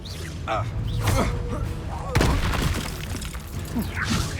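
Incendio fire spell cast in Hogwarts Legacy: whooshing magical bursts and a sudden heavy blast near the middle, with crackling, shattering tails and muffled voices in the game mix.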